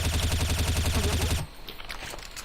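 Rapid, loud automatic gunfire in Counter-Strike: Source rattles in a fast steady burst for over a second, then gives way to quieter scattered noise.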